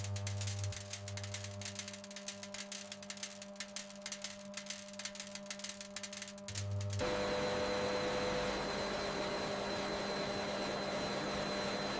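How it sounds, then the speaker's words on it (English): Machinery in a sugarcane factory's sugar sifting line whirs with a rapid mechanical buzz, then shifts into a steady, broad rushing hum for the rest of the clip. "the sugar is sifted according to particle size, fine, medium, coarse, to meet various usage requirements"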